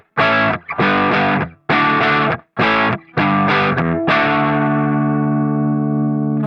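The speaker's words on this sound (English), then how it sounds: "if you tune by ear, I'm just going to use my fine tuners and put my guitar out just slightly" An electric guitar tuned slightly out with fine tuners plays distorted strummed chords in several short bursts, ending on a long ringing chord with a wavering, chorus-like shimmer.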